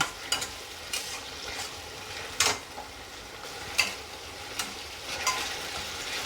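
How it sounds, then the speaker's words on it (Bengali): Masala spice paste for Bengali wedding-style bhetki fish kalia frying in a hot pan, with soft continuous sizzling broken by several sharp scraping stirs of a spatula, close and alone. "ভালো করে কষে নেব"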